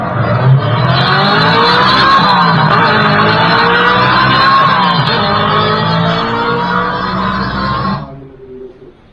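Simulated engine sound from a Komaki Ranger electric cruiser motorcycle's speaker, a loud, steady synthetic race-car-like roar with shifting pitch that cuts off abruptly near the end.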